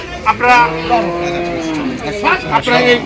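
A cow lows loudly several times at Gabtoli cattle market in Dhaka, its moos overlapping with people talking nearby amid busy market noise.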